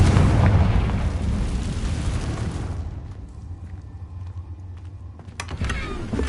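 The Confringo fire spell in Hogwarts Legacy detonates with a loud, rumbling blast that rolls and fades over several seconds, followed by a few sharp crackles near the end.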